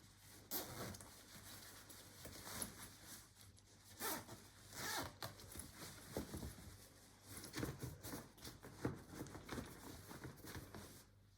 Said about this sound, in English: Then we're going to put the mattress back in the cover.